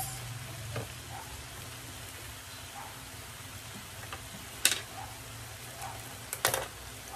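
Corned beef and vegetables sizzle faintly in a pan as oyster sauce goes in, with a low steady fry broken by a few sharp clinks and scraping stirs, no voices.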